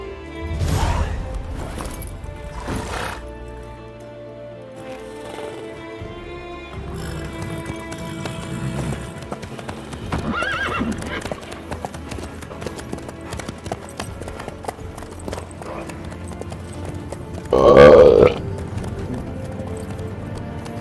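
Hooves clip-clop steadily as a horse trots in The Witcher 3, with a brief crash and snort near the end and faint music in the background.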